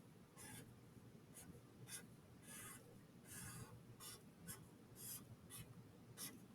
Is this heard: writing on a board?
yes